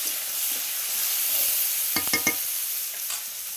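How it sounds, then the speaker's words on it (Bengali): Onions and chopped tomatoes sizzle steadily in a hot pan, with a few clinks and scrapes of stirring partway through. "দিয়ে সবগুলো আমি ভালো করে ভাজা ভাজা করে নেবো।"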